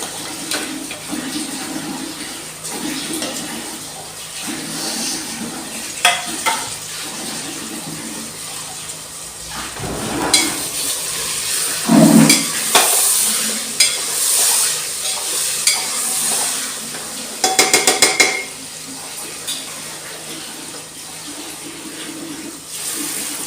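Green peas frying and stirred in a pan for matar pulao, with soft sizzling under repeated scraping and clinking stirs, plus a few louder bursts of water-like splashing near the middle.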